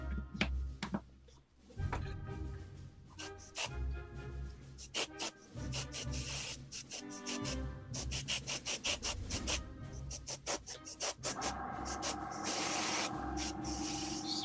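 Bursts of airbrush hissing spray while painting an action figure, short and repeated at first, then a longer continuous hiss, close and fairly quiet.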